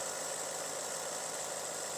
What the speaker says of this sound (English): And then these injectors, they tick.